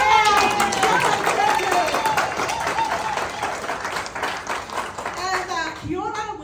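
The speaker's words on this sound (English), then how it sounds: "Big clap for us!" Crowd applause and clapping at an all-white Samoan Māori 21st birthday celebration, a steady wash of many hands with voices mixed through, fading near the end.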